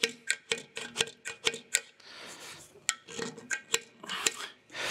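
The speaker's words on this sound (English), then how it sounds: "now what I want to do is come in here and re-scrape over this, get all those burrs out again." A hand scraper works over a babbitt bearing on a restored bandsaw, giving sharp, rhythmic scraping strokes in close succession, with a brief rougher rasp in the middle.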